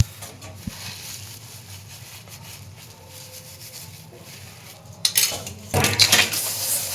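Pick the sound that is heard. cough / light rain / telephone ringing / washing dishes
washing dishes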